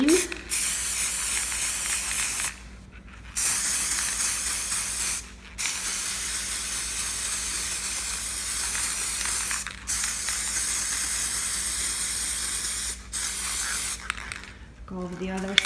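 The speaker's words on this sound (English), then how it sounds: "So I'm just gonna go ahead and spray right on top of the seam." Aerosol spray paint hisses onto the seam of a Dollar Tree Valentine puzzle shadow box in several long, close bursts separated by brief pauses.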